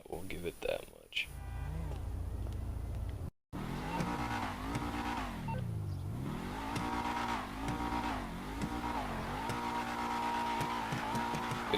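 A GTA V car engine revs hard and climbs through gears, its pitch rising and dropping repeatedly, loud and close, with a short cut in sound early on.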